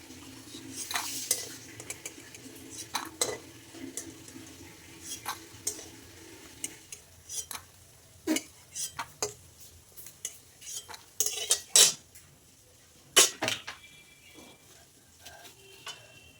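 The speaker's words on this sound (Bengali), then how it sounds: "বড়াগুলো দেখো সব ভাজা হয়ে গেছে এবার তুলে" Fried lentil fritters are lifted out of a pan of hot oil, with a soft sizzle underneath and a series of sharp metal clinks and scrapes from the utensil against the pan, growing busier toward the end.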